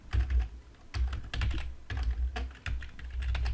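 A name being typed on a computer keyboard: several bursts of close, crisp key clicks with short pauses between them, no talking.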